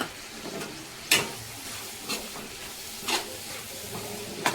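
Kasarakaya (spine gourd) fry being stirred with coconut powder in a pan: soft scraping strokes come about once a second, with sharper spoon knocks, over a low steady sizzle and hiss.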